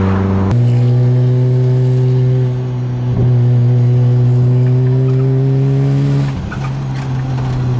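A Mazda RX-7 rotary engine with 10,000 miles on it revs hard while driving, a loud, steady buzzing drone that climbs in pitch through the gears with brief dips at the shifts.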